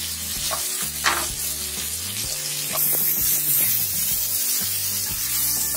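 Broccoli and capsicum are stir-fried for pasta arrabbiata, a strong steady sizzle with repeated scraping and clinking of a spatula against the pan, close and loud, with a faint background hum and no speech.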